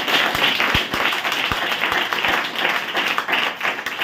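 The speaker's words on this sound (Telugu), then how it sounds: "గట్టిగా చప్పట్లతో" An audience at a youth revival meeting claps loudly and steadily, a dense, continuous wash of applause with a few sharp low thumps scattered through it.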